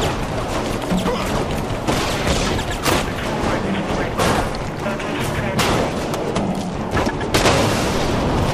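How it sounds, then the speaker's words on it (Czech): Dense, continuous combat noise in Prototype 2 with repeated booming explosions and gunfire-like cracks, loud throughout with no pause. "O, tak to byl výbuch."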